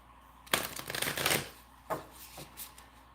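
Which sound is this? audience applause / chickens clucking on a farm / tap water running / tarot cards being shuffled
tarot cards being shuffled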